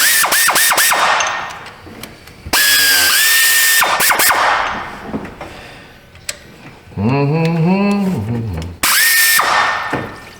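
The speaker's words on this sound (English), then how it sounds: "Grab us a different 1/4 inch air ratchet, hopefully." Quarter-inch air ratchet at work on a 2010 Ford Escape 3.0 during a water pump job, loud bursts of rapid whirring and buzzing separated by pauses, with brief hiss of air.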